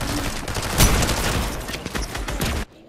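Gunfire rattles in the video game Fortnite, a rapid, loud burst of shots fired close by that carries on for over two seconds and then cuts off abruptly.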